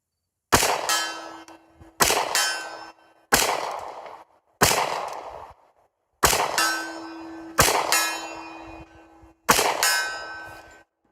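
Seven loud, evenly spaced shots from a Ruger LC Carbine in .45 ACP, several followed by a ringing clang as bullets strike steel targets, each with a long, fading tail.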